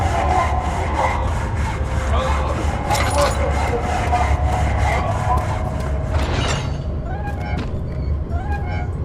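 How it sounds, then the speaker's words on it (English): A saw grinds in a torture room in the video game Amnesia: The Dark Descent, with repeated rasping strokes over a low droning ambience, along with some scraping and metallic clanks. "I hear sawing."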